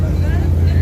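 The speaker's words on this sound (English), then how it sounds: "And that is the noisy car out there. Very noisy." A noisy car passes on a Midtown Manhattan street at night, its steady low engine rumble filling the clip beneath nearby talk and city bustle.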